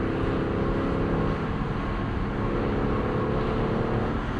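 Lexus LC 500 convertible V8 engine held in the mid-rev range during a rush-hour commute, a steady, loud low rumble with a throaty drone that continues unbroken throughout.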